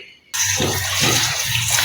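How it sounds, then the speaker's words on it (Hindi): Cut spinach is rinsed under running tap water, which bursts on abruptly after a short silence and then gushes and splashes loudly and continuously to the end. "पालक जो है वो मैंने काट ली है, तो अब इसको अच्छे से क्लीन कर लेंगे, पानी से धो लेंगे ताकि मिट्टी वगैरह इसकी निकल जाए।"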